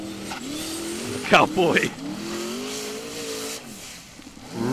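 A Formula Offroad race car tears through a hillside course in Blönduós, Iceland, engine revving and rising in pitch with a burst of tire squeal midway, while a commentator talks over it.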